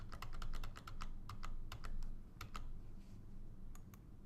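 A password typed on a computer keyboard for a payroll submission, with quick, quiet clacking keystrokes in short bursts and brief pauses, close and soft.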